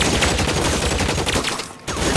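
Dense gunfire from a shootout in the video game L.A. Noire, with rapid overlapping shots and bursts filling the stretch, a brief lull near the end before the firing resumes loudly.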